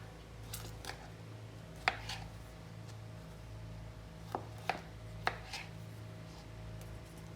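Freshly picked garden vegetables, some still warm, being cut up: a few scattered knife chops and taps over a low steady hum, otherwise quiet.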